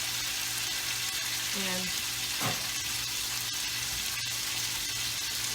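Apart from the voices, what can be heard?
food frying in an oiled pan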